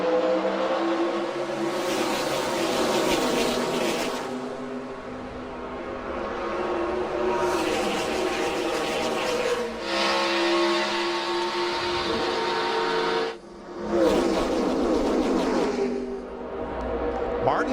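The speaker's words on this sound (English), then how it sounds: "Martin Truex from the pole led the drag race to turn 1" NASCAR race cars roaring away at the start of the 2012 Budweiser Shootout, a dense pack of engines revving and droning loudly, swelling and dipping in waves under continuous crowd and commentary noise.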